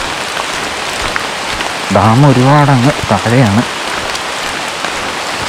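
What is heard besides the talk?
heavy rain in a forest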